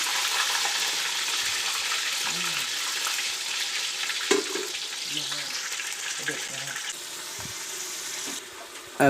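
Fish frying in a pan over low heat gives a steady, bright sizzle and crackle, with occasional clinks and stirring noises that stay close and continuous.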